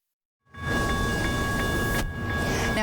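A train stands stuck on the tracks after a crash, giving off a steady, loud rumble with faint tonal hums and no talking.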